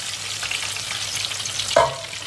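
Eggplant pieces fry in a hot pan with a steady, close sizzle. A brief louder burst of crackling near the end suggests the slices being stirred or turned. No voices are heard.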